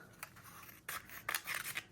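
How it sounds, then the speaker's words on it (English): Scissors snip through a sheet of planner stickers in a few short, close, crisp cuts with small gaps between them, with no voices. "grab a pair of scissors or an X-Acto knife, and you're going to have to cut off the top of this"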